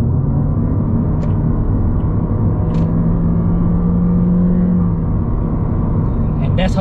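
A 2021 Toyota Yaris with a CVT accelerates from 80 to 110 km/h in sport mode, giving a steady low engine drone and road rumble heard from inside the cabin, with a faint rising whine.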